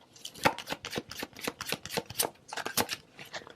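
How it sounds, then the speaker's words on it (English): Tarot cards are shuffled briskly and a card is drawn. The riffling comes in a rapid run of close, crisp flutters, with a short break near the end before it resumes. "I'm going to get one more card here."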